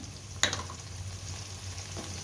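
Onion with ginger garlic paste sautés in a pan for a Tamil fish curry, a soft, steady sizzle with one sharp clank of a utensil early on.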